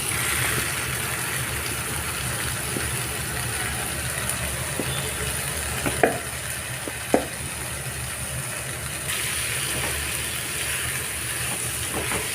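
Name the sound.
prawns frying and sizzling in tomato masala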